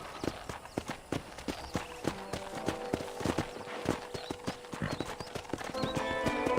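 Horse hooves clip-clopping at a steady trot in the video game Red Dead Redemption, with a brief whinny and music layered underneath; the rhythmic hoofbeats stay close and prominent throughout.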